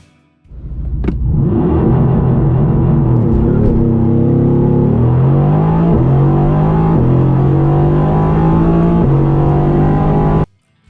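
The V8 of a Mercedes-AMG GT Black Series starts and revs hard for several seconds, its loud, raw growl climbing in pitch in steps before cutting off abruptly.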